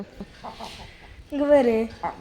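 Black chickens cluck close by: a few soft low clucks, then one longer, louder drawn-out squawking call, followed by another short cluck.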